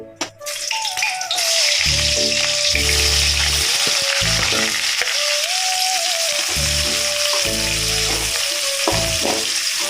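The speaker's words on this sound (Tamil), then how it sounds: "இப்போ நம்ம வெங்காயத்தை போட்டு வதக்கிக்கலாம்." Onions are dropped into hot oil for chicken fried rice, bursting into a loud, close sizzle that keeps going, broken by occasional stirring and scraping of the pan.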